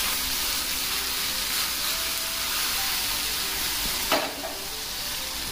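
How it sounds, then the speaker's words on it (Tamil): Asafoetida powder hits hot oil with the gas turned off, making a close, steady sizzle that flares into a brief sharp crackle near the end before settling back down. "பெருங்காய பொடி எண்ணெயில் போட்டுருவோம்"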